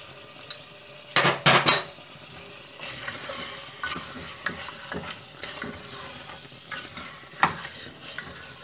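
Mutton curry with turmeric and salt frying in a pan, soft sizzling under scraping and stirring with a spoon, with sharp clanks of metal against the pan, close and unaccompanied by speech.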